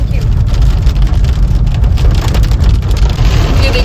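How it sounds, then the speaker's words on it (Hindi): Heavy rain pours down in a loud, dense, unbroken hiss with a low rumble beneath it, steady and close throughout. "आपको आवाज से पता चल रहा होगा कितनी तेज बारिश है"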